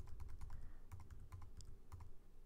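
Keys clack on a computer keyboard during a Python programming session, a quick run of close, crisp taps in uneven rhythm over a low background hum, with no talk.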